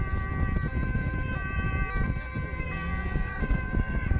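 Ambulance siren wailing at moderate distance over road traffic noise, steady and continuous.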